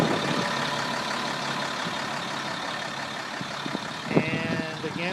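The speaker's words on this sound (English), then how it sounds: "It's got the Caterpillar 3116 motor. You can hear it running now." A 1998 truck with a Caterpillar 3116 diesel engine runs steadily at idle, a constant broadband rumble with a brief louder knock near the end and faint background sounds.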